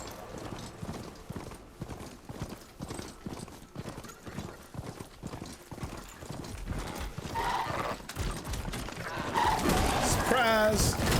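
A robot horse mount in Horizon Forbidden West clip-clops in a steady rhythmic trot under game music, with a loud mechanical whinny rising near the end while a player talks over it.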